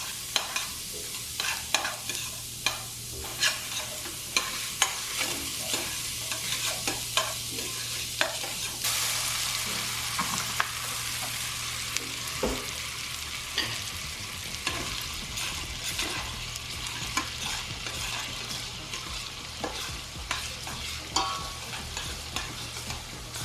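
Onions and garlic sizzle and fry steadily in a pan while a utensil stirs and scrapes at regular intervals, a close, continuous crackle with no talking.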